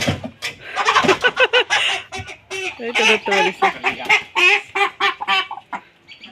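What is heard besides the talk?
chickens clucking while being caught and bagged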